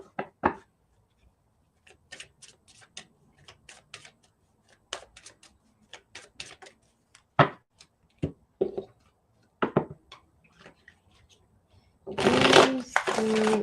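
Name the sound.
shuffling tarot cards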